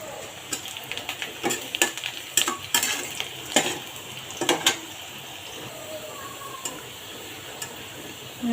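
Spice tempering for masoor lentil dal with vegetables frying in a pan, with irregular scraping stir strokes and clicks over a steady soft sizzle, close and moderately loud.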